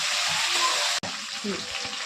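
Something frying in a pan before spice mix goes in, a loud steady sizzling hiss close by, briefly interrupted by a sharp cut, then continuing with faint stirring sounds underneath.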